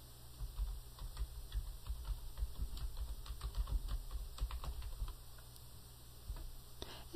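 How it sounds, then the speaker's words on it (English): Typing on a computer keyboard while entering a customer's full name into a sales quote form, a steady run of soft, close clicks and taps lasting several seconds with no talking. "We'll go ahead and type in the full name."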